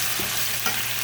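Cooked rice is stirred in a metal pot with one hand, making a brief, close scraping and shuffling sound with no voices.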